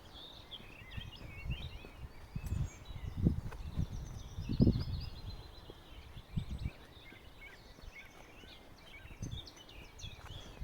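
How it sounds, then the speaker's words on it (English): Birds sing faintly in a memorial garden of remembrance for the Lockerbie Pan Am Flight 103 disaster, with scattered high chirps over low rustling and a few soft thumps in a quiet outdoor setting. "when you hear the birds singing, there's something beautiful"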